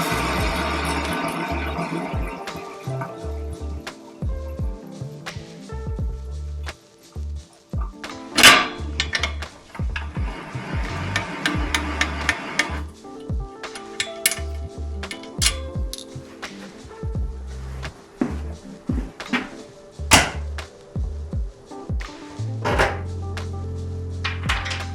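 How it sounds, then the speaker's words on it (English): The dry-bearing bottom bracket of a 1983 Ross Mt. Hood bicycle is heard up close as the crank turns, a steady gritty rumble broken by repeated clicks, clunks and metallic knocks throughout. "Put the microphone up to this bottom bracket. You can really hear how dry the bearings are inside."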